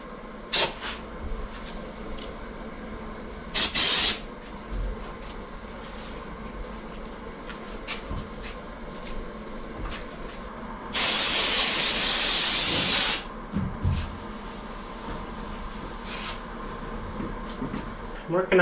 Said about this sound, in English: I've just got some Super Tech brake clean and a microfiber.